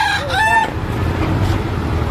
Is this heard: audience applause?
no